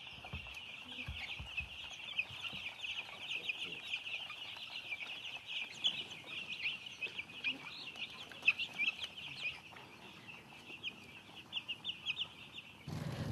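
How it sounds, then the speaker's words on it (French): Chickens clucking steadily on a poultry farm in Senegal, a busy chorus of hens at moderate distance with a few sharper calls, faint and continuous. "Chez son ami Abdul Aziz, il prendra connaissance de la race de poussins qu'il compte élever"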